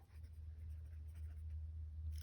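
Steady scratchy scribbling of a pencil on paper, close and continuous, with a low hum underneath and no talking.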